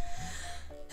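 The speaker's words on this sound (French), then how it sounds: "Je vais éternuer." A single sharp sneeze bursts out at the very end, following a quiet stretch with a faint low hum.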